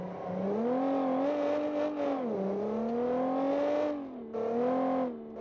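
A car engine in the car-building game Automation revs up and down in a steady, rough-toned drone, climbing in pitch, dipping, then rising again with a short break near the end; no one speaks.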